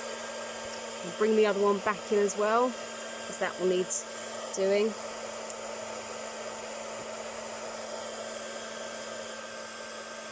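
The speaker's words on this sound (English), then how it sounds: "So excuse the noise, the heat gun's going on now." A heat gun for embossing powder runs with a steady whining blower drone throughout, while a person talks briefly over it near the start.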